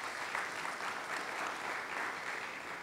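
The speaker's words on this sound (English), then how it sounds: "Let's give them a round of applause, please." A community safety meeting audience gives a steady round of applause, a dense continuous patter of many hands at moderate distance, holding even throughout with no voices over it.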